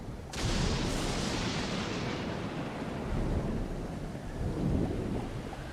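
Thunderstorm in the survival game Stranded Deep: a loud crack of thunder opens into a long, heavy rumble over steady pouring rain, with a second swell of rumbling near the end.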